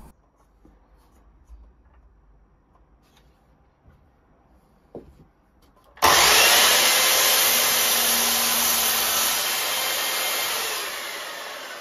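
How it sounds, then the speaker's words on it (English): Wooden boards, offcuts of old skirting board, cut to length with a power saw; after a few quiet knocks, a loud, steady buzzing cut starts abruptly and runs continuously to the end, close and prominent. "I cut each board to length and then trimmed the opposite end just to make sure that it was square."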